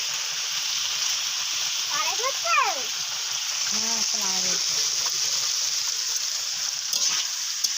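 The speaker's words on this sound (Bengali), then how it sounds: "এখানে আলু ভাজা হচ্ছে" Potatoes fry in a pan on a home cooking stove, giving a steady, even sizzling hiss that runs throughout while a person speaks briefly over it.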